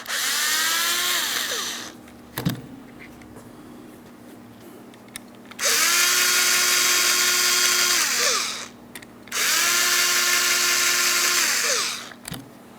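Power screwdriver with a Phillips bit whirs in three bursts of about two to three seconds each, separated by pauses and a few clicks, while screws are removed from the front exterior door handle of a 2008-2016 Chrysler Town & Country.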